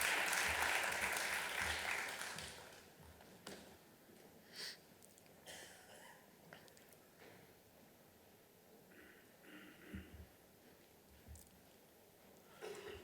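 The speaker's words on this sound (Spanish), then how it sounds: "Animemos con un aplauso a los ponentes también," Brief applause from an audience at an academic panel on election campaigns fades after about two seconds, followed by a quiet room with scattered rustles, sniffs and small handling noises.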